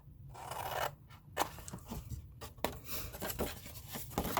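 Scissors snip and slice into cardboard box flaps in a series of close, crisp cuts and scraping strokes, repeated irregularly at a moderate, quiet level.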